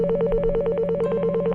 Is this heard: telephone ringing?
yes